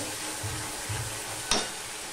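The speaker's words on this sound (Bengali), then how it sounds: "দইটা দিয়ে কষানো হয়ে গেছে" A vegetarian paneer curry made without garlic, onion or tomato fries with yogurt in a pan, giving a steady close sizzle broken by one sharp scrape of a stirring spoon.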